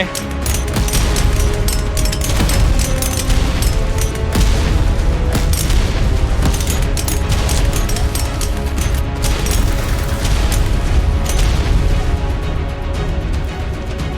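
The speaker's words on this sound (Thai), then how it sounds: "ใช้ระเบิดก็ปาไป" Dense, continuous barrage of booming thrown-bomb explosions and gunfire-like bursts in the video game ARK: Scorched Earth, loud and chaotic throughout, with no pauses.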